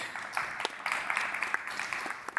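Moderate applause from a data centre conference audience, a soft, fairly distant patter of clapping lasting a couple of seconds.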